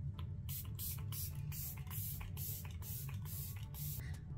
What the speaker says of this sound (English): let me just do some setting spray too